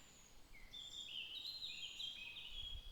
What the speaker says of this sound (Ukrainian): я зараз знаходжусь в лісі, я чую спів птахів